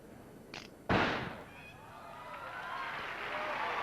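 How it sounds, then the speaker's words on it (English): Bob Munden fast-drawing a single-action revolver and firing two shots at two targets so quickly they nearly merge into one sharp report, preceded by a faint click and followed by a lingering ringing decay and crowd noise. "銃声は一発しか聞こえなかったという方？"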